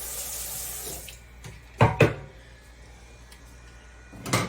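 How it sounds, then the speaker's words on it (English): Tap water runs briefly into a kitchen sink while a spoon is rinsed after stirring chili, a soft hiss that cuts off after a second, followed by a couple of clinks and quiet room sounds. "Rinse my spoon back off."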